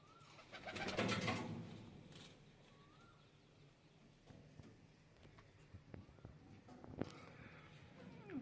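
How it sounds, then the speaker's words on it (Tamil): Karnam and Romer pigeons coo softly inside a coop, with low repeated calls, faint rustling and a few small knocks over quiet background. "நம்மக்கிட்ட இருக்க ப்ராக்கள் வந்து கர்ணமும் ரோமர் மட்டும்தான்"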